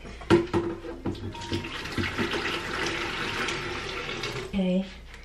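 Hot water runs from a tap during hair dyeing, a close, continuous splashing flow with a few sharp knocks. It rises and ends in a brief gurgle, with a voice heard partway through.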